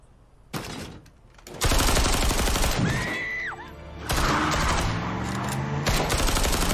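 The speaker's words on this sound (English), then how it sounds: "Yeah, he's about to get shot." Gunfire from the TV drama series Yellowstone erupts in a sustained, loud volley of overlapping shots and blasts that keeps rumbling for several seconds, with strained tonal cries cutting through the din.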